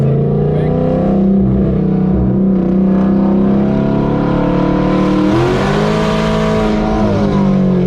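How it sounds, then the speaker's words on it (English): A loud car engine fitted with a custom comp cam and headers roars steadily and climbs in pitch as it accelerates, heard up close and continuously with no pause. "It's like you can hear the car."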